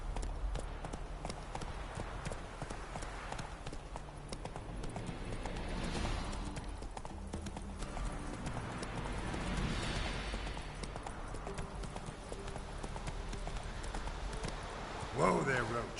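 Roach the horse's hooves clip-clop steadily in The Witcher game, mixed with background game sounds and a person talking over them, with a brief louder burst near the end.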